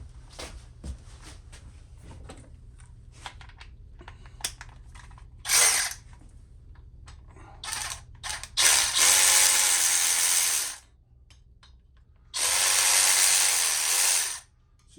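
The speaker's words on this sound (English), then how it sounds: "I could get my ratchet going." A hand ratchet works on the top end of a Harley-Davidson Sportster Evolution engine, sounding in close, loud bursts of rapid clicking separated by short pauses, with no talking.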